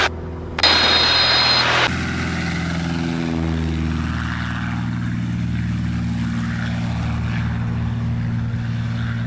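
A Cessna Skywagon propeller engine roars loudly on takeoff from a grass runway, with a sharp burst of noise early on settling into a steady droning hum as the plane climbs.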